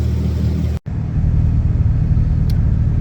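A Jeep ZJ driving in circles around a yard to reach operating temperature: steady, loud, close engine rumble that drops out in a brief gap and then resumes with an uneven low drone.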